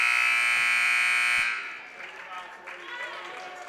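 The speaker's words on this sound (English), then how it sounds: "before the buzzer sounded" At a boys' basketball game, a loud, steady electronic buzzer blares for about a second and a half, then cuts off, leaving crowd noise and indistinct voices.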